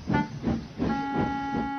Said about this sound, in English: Stuart headed Falcon's train with Duke coupled behind.